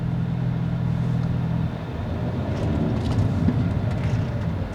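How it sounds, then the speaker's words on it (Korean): A low, constant engine drone and road rumble from inside a moving Hyundai Avante N (Elantra N), heard from front and rear, steady throughout with no voices. "소리가 이제 좀 크게 들리기 시작하는데 앞쪽 엔진에서만 들리는 게 아니라"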